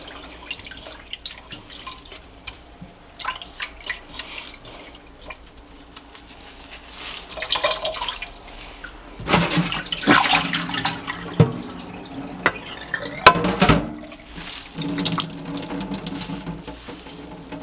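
Water drips and trickles from a handful of freshly washed kale being squeezed over a sink, a wet squishing patter that swells into a louder splashing run in the middle before easing back to scattered drips.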